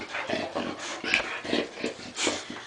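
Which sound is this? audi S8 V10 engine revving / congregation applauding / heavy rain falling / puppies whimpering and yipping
puppies whimpering and yipping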